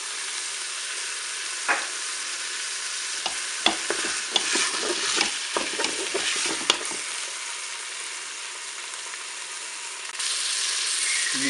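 Pork roast browning with a garlic clove in a Cookeo multicooker, a steady sizzle of frying under a burst of spoon stirring and scraping in the middle, then the sizzle carries on alone.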